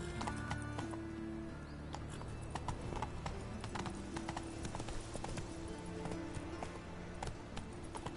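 Hooves of the horse Roach clip-clop in a steady galloping rhythm, loud and continuous, with faint mechanical clicks and gear-like rattles beneath.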